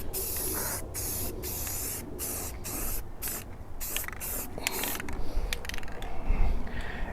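Spray paint hisses steadily as a light first coat goes onto a Harbor Freight trailer being converted into a kayak hauler, loud and close. The bursts are broken by brief pauses and faint mechanical clicks.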